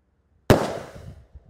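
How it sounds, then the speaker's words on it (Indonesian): A single sharp thump as a Bima Sakti 4-inch Roman candle firework launches outdoors, loud and close, its burst decaying over about a second into a faint crackly tail. "Lanjut yang kita nyalakan di sini ada Bima Sakti Roman Candle ukuran 4 inci, guys, yang paling jumbo"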